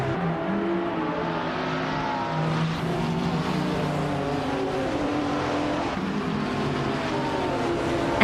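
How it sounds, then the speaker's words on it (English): GT3 race cars, a 2014 McLaren 650S GT3 among them, launching off the line at Mid-Ohio in a racing game: a loud, steady chorus of engines revving up together without pause. "the race is underway at Mid-Ohio with the GT3 class."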